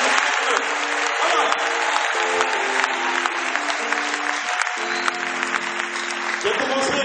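Congregation applauding and cheering to acclaim the Lord during a Catholic intercession and preaching service, a sustained wash of clapping across the whole stretch with a musical drone or keyboard tones beneath and voices mixed into the crowd.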